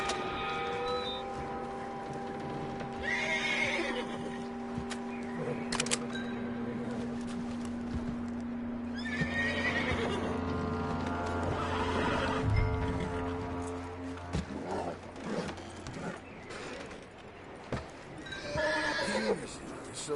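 In Red Dead Redemption 2 gameplay, a horse whinnies and neighs while its hooves clip-clop nearby, with a voice talking over parts of the scene and short rustling noises between.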